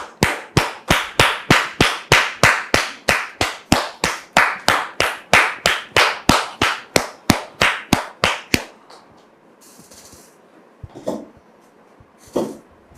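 A studio audience welcomes a guest with fast, rhythmic clapping in unison, loud and close for about eight seconds, then stops abruptly, leaving faint room noise and a couple of soft knocks.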